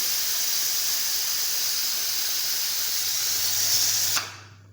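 A pressure cooker venting steam in a home kitchen, a loud continuous close hiss that cuts off abruptly near the end, leaving near silence.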